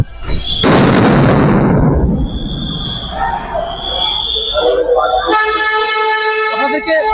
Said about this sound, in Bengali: পুলিশ সাউন্ড গ্রেনেড মেরে আপনাদেরকে ছত্রভঙ্গ করার চেষ্টা চালাচ্ছে।